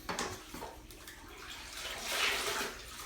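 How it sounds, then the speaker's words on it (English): Water splashes and trickles as a wet mop is wrung out over a bucket, a rushing liquid sound swelling midway and then easing into dripping. "we got to take our mop and we got to wring it out as dry as we can get it"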